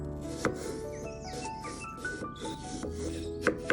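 A knife slicing apples for apple pie, giving repeated crisp cuts and rubbing scrapes at an uneven pace. The sound is close and moderately loud, with soft background music and no talking.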